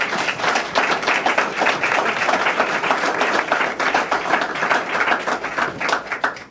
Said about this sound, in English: Round of applause for our judicial candidates, please.